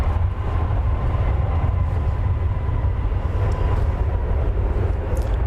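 A Boeing 787 Dreamliner jet aircraft passes over the DFW airport area on a long-haul arrival, a loud, steady broadband roar that holds evenly throughout.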